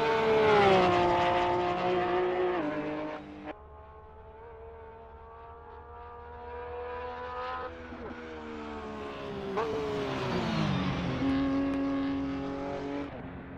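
A Porsche 911 GT3 Cup 2017 race car in the Assetto Corsa game on the Nordschleife revs loudly and continuously, its engine note rising and falling through gear changes with a sharp drop near the middle, alone without talk.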